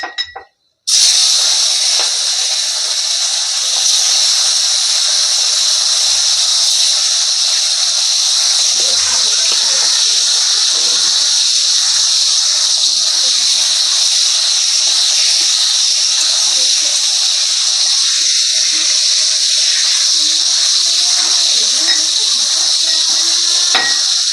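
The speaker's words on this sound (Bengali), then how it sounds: "তো দেখো এখানে আমার তেল গরম হয়ে গিয়েছে। এবার আমি মাছগুলোকে ছেড়ে দিচ্ছি।" Kuche eel pieces drop into hot oil and set off a loud, steady, hissing sizzle that starts abruptly and carries on unbroken, with faint clatter and a few quiet voices beneath.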